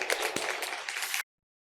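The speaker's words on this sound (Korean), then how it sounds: "다시 한번 힘차게 박수로 축하하겠습니다." A church congregation claps together at a Sunday worship service, a dense steady patter of many hands lasting just over a second before cutting off abruptly.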